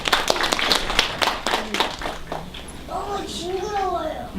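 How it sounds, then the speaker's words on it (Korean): Audience applause at an SF talk concert, a burst of clapping for a couple of seconds that fades as a voice begins speaking over the tail. "사이먼에게 박수를"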